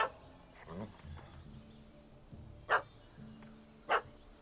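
A dog in The Witcher 3: Hearts of Stone lets out two sharp, loud barks a second or so apart, with quieter yips and whimpers before them and faint game ambience underneath.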